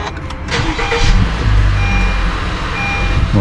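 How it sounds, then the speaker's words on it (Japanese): A Honda Vezel RU1 engine cranks and catches, then settles into a low steady idle, close and fairly loud, with a faint high beep partway through. "きっちり確認してからねエンジンかけてください"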